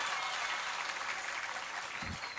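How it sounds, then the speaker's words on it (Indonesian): Audience applause at a public event with a bicycle giveaway, a steady broadband wash of clapping that holds evenly throughout at moderate loudness, with a brief low thump near the end. "Tepuk tangan dulu."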